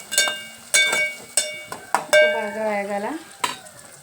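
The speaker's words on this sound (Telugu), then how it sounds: "ఇప్పుడు మనకి ఉల్లిపాయలు వేగాయి" Onions and green chilies are stirred in a metal pan, a spoon striking the rim in several sharp ringing clanks with a faint frying sizzle beneath, close and without talking.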